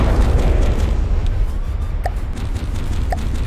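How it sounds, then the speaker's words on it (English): A ship's magazine explodes in the naval combat game From the Depths, a loud, sustained low rumbling roar that fills the whole stretch, with a couple of faint sharp pops over it. "Oh, magazine explosion, and it's gone!"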